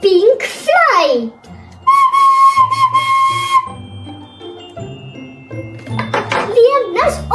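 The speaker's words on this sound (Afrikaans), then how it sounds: "'n pink fluit." A pink toy whistle blown in a steady, loud, high tone lasting a couple of seconds, with a voice and other sounds around it before and after.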